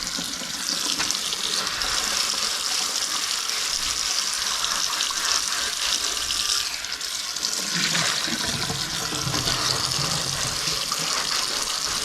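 Hot water runs steadily from a tap over a carbon steel skillet, a continuous broadband splashing rush that stays loud and close for the whole stretch, with a slight shift in tone partway through as the flow hits the pan differently.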